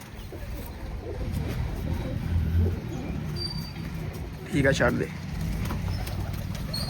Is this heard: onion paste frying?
no